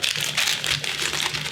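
A plastic storage bag crinkles and rustles in quick bursts while being handled during a board game unboxing, close and fairly loud, with no speech.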